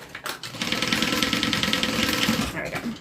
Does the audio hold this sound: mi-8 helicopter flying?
no